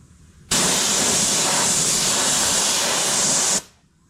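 Spray gun applying glue to Dodge Ram seat foam, a loud, close, continuous hiss running steadily for about three seconds before stopping sharply, with no talk.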